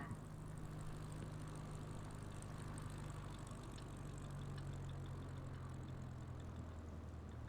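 Experimental light propeller plane touching down on runway 13 right at Krakow, its engine a steady low drone close by, easing slightly near the end.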